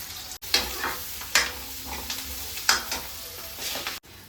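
Frozen maida-free chaap frying in a pan as chopped onions are added, with several loud scraping stirs of a spatula over a steady sizzle.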